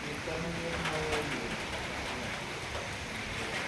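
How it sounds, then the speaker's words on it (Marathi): Heavy rain pours down steadily, a dense close hiss filling the whole moment, with a voice briefly heard under the downpour. "जास्त पाऊस चालू झाला"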